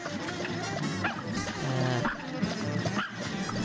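Cartoon pups barking and yipping during a Cuphead boss fight, dense and loud amid busy game music and effects.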